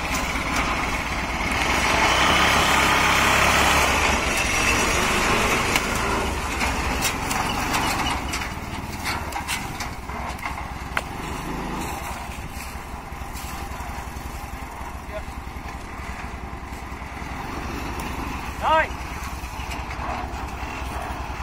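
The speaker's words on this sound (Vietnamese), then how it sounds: "Đây lần đầu tiên mình chạy xe ba bánh này á." Engine of a three-wheeled motor vehicle running with a rough, chugging putter, louder at first and then settling to a steadier lower drone, with faint rattles and clanks over the top.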